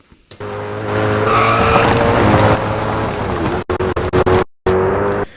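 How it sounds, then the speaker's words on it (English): Car engine in Need for Speed: Hot Pursuit drones steadily while crunchy gravel noise rises under it as the car drives onto gravel, then cuts off in a few abrupt stutters and gaps. "very basic free sound gravel sounds"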